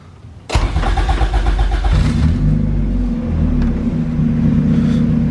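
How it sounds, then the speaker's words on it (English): A Honda Civic fitted with a turbo cranks briefly and catches, then settles into a steady, loud idle nearby with no talking over it. "And I'll start the car really quick."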